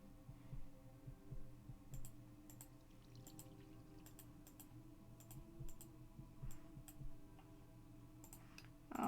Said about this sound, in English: That guy's heartbeat kind of is disturbing me